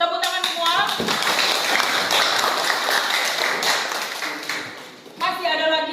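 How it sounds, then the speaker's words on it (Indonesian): A classroom of students applauding together, a dense burst of clapping lasting several seconds and fading out, with a teacher speaking just before and after. "Tepuk tangan semua."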